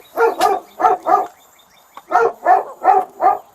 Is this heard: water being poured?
no